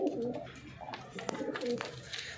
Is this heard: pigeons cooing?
yes